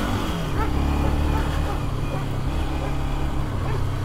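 A vehicle on a rural back road accelerates away, a continuous low engine rumble with shifting tone under a voice.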